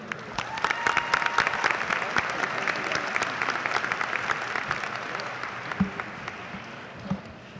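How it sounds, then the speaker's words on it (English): Sustained audience applause at a high school graduation ceremony fills a large hall. A dense wash of many hands starts loud and slowly thins, with a few scattered whoops and calls near the end. "A round of applause for Dr."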